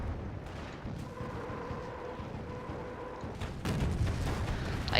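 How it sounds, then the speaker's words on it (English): Soviet Katyusha rocket artillery barrage in Company of Heroes, a dense rumbling roar of launches and distant impacts that swells louder toward the end, with no voices over it. "Let's call in one last barrage"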